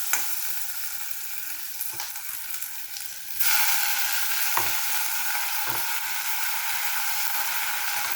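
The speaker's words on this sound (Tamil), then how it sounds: "வெங்காயம் தக்காளி பூண்டு கடுகு ஊத்தம்பருப்பு எல்லாம் போட்டாச்சு இது கொஞ்சம் வதங்கின பிறகு இந்த கீரையும் போட்டுட்டு" Onion, tomato, garlic and mustard seeds sauté in a pan, giving a soft continuous sizzle with a few spoon-stirring scrapes, then the frying grows brighter and louder midway and keeps crackling steadily.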